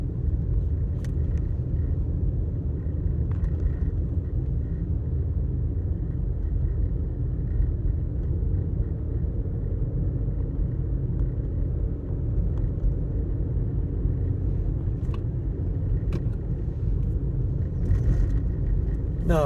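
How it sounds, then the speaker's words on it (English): A car coasts downhill in neutral along a canyon road in Lamoille Canyon, Nevada, giving a steady low rumble of tires and wind from inside the cabin with no engine revving. "Now here I just put my car on neutral, and it's a free fall"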